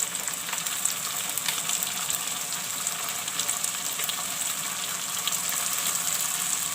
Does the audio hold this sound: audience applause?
no